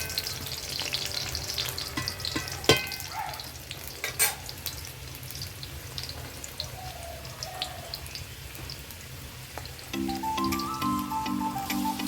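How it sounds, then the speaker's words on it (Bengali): Potatoes frying in a pan, browning in hot oil as part of making a spiced chicken dish, giving a steady low sizzle with occasional stirring clatter, no talk, and a brief tonal beep toward the end. "এখন একটু ভেজে নিচ্ছি।"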